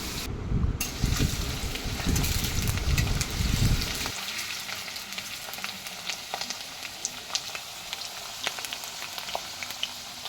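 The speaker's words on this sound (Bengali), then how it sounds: "জিরে তো প্রথমেই আলুটা ভেজে নিচ্ছি" Long potato strips fry in a pan for a bata fish curry with potato and eggplant. A steady hissing sizzle plays alone, with a heavier rumbling layer for the first few seconds before it thins.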